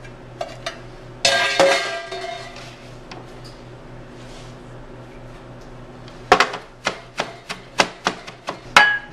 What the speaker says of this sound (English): Okay, our cilantro is chopped.